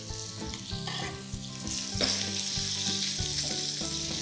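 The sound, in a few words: steak sizzling in a hot pan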